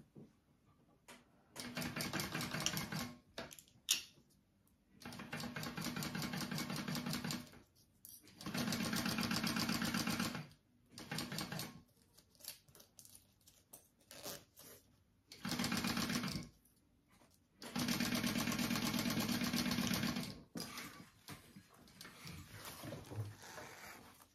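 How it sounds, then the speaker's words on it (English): Sewing machine stitching the top edge of a backpack lining at a narrow seam allowance, running in several loud whirring bursts of a few seconds each, separated by quiet pauses, close up and with no talk. "I'm gonna sew this top edge at a 1/8 inch seam allowance."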